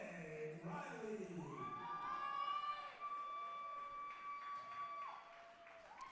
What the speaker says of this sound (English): let's give a large round of applause for your captain